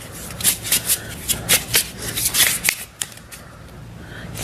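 A deck of law of attraction manifestation cards is shuffled by hand, giving a close run of rhythmic riffling and flicking bursts that then settle into softer sliding.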